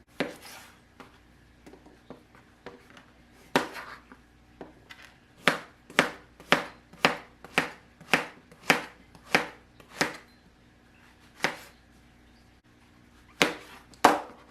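Knife slicing mushrooms on a cutting board, a rapid run of crisp chops coming in an even rhythm, close and clear, with a few slower cuts at the start and end.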